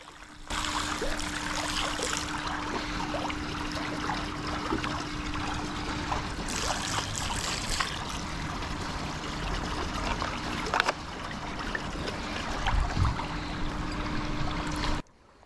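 Concentrated pool chemical poured from a marked bottle into a swimming pool, a continuous splashing trickle that runs steadily for about fifteen seconds, surging briefly twice, then stops abruptly, with a faint steady hum beneath.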